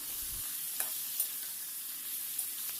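Green chilies and onions fry in a pan for a mutton curry, a steady faint sizzle with a few light scrapes of stirring spaced through it, no voices.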